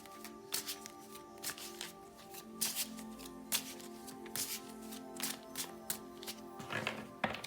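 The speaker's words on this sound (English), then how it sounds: "Let me pull more cards and let's see a bit more." Tarot cards being shuffled and pulled from a deck, a series of close, quiet riffles, slaps and taps in uneven bursts over a faint steady background hum.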